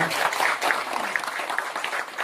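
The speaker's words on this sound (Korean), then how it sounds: "마지막 한 번 박수 한번 주십시오." An audience applauds at a lecture event in Gyeongju, with dense, continuous clapping that sounds moderately distant and holds steady for the whole stretch.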